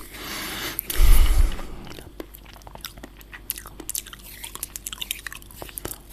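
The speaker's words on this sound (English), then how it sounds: "I'll try some mouth sounds as well." Close ASMR mouth sounds: a loud wet burst near the mic, then quieter clicks, smacks and soft squishy chewing-like noises scattered irregularly, intimate and alone without speech.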